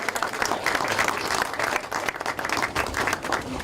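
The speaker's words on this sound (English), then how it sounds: "Yes, you can clap." An outdoor crowd applauds at a groundbreaking ceremony for a new campus at Barnett Estate, Western Jamaica, with steady clapping that rises and dips slightly over a few seconds.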